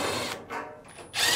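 A power screwdriver removing Phillips screws from a Fisher & Paykel dryer whirs in short bursts, stopping and starting twice, close and fairly quiet.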